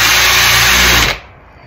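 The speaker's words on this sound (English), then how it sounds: "with this big drill bit, I just want to drill in about half the distance of the thickness of the wood" Power drill boring into wood with a big drill bit, a loud steady whine that cuts off abruptly near the end and fades into quiet.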